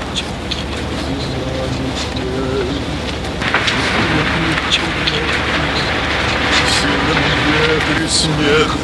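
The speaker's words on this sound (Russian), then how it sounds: "Ох, слушай, да хоть дождь пошел." Steady rain patters down as a broad hiss that swells midway, with people talking underneath throughout.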